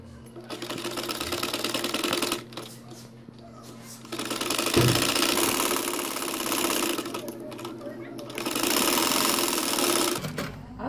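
Electric sewing machine stitching a poncha garment, running in several long bursts of steady rapid whirring, close and fairly loud, with short quiet pauses between runs.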